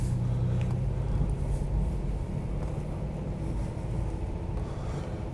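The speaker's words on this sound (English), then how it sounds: "Idling a bit high because I just started up" A Ford Capri 2.8 injection idles at a slightly raised speed just after a cold start, a steady low rumble with some outdoor wind noise, continuous and unbroken with no talk.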